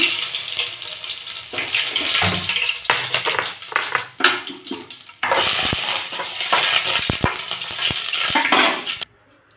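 Three dried red chillies hit hot oil in a wok with a loud sizzling hiss, broken by scraping and clattering of a spatula against the pan, close up, ending abruptly.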